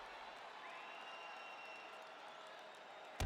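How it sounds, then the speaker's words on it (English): Crowd applause and cheering in a UFC fighting game on PS5 after a round, a steady broad wash of clapping and crowd noise at moderate distance, with a faint commentator voice underneath. "So the crowd voicing its appreciation after that round."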